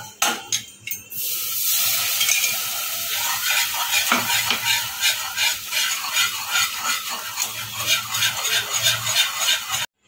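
Milk poured a little at a time into butter and flour for white sauce in a kadai, stirred constantly, giving a loud, even sizzle with rhythmic scraping strokes that cuts off abruptly at the end.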